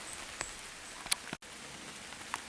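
Steady patter of rain falling on tree canopy along a woodland walk in the Norfolk Broads, a soft, even hiss with a few sharper drips, faint and continuous, no talking.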